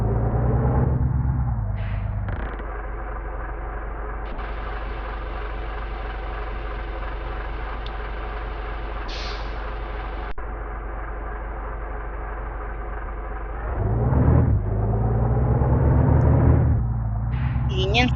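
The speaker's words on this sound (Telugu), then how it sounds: "ఈ ఇంజన్ సౌండ్ అయితే కొంచెం పెద్దగా అయితే వస్తుంది గైస్." Volvo 9600 bus engine from a bus simulator game mod, a steady low diesel drone idling and running throughout, swelling louder and rougher near the end as revs rise.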